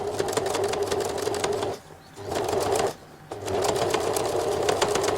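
A sewing machine top-stitches close to the edge of a pocket binding on a garment shell and lining, its rapid steady needle chatter running in three bursts separated by two short pauses, close and clear.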